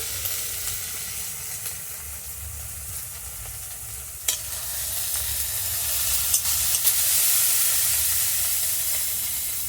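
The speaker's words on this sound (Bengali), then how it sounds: "চিংড়ি মাছ ও পেঁয়াজটা এই যে ভাজা ভাজা হয়ে গেছে। আমি এবার কাঁচা লঙ্কা চেরাটা ওর মধ্যে দিয়ে দিচ্ছি" Prawns and onion frying with slit green chillies for kolmi shak ghonto, a steady close sizzle throughout with occasional stirring scrapes and clicks, growing slightly louder and hissier toward the end, no voices.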